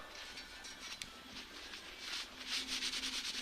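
A rag rubs over freshly degreased automotive metal in a shop, producing soft, continuous swishing and scrubbing strokes that swell louder toward the end, fairly close and with no voices.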